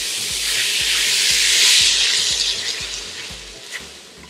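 Plantain and onion fry in a pan with a steady, loud sizzle that swells and eases, and a faint rhythmic low thumping runs beneath it.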